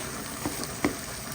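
Corned beef, hot dog, onion and garlic sauté in a pan for Filipino-style spaghetti, a steady close sizzle with a couple of soft stirring knocks.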